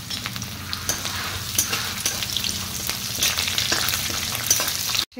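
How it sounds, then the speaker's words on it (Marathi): Cumin, mustard seeds, crushed garlic and raw peanuts fry in hot oil with a loud, continuous sizzle. Crackles and pops are scattered throughout, and a brief clatter sounds near the end. "जिरे मोहरी तळून घेऊया अगोदर"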